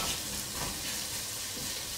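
Sliced onions with ginger, garlic and green chillies sizzling in a pan for an egg stew, a dense continuous hiss of frying with faint stirring, no talk.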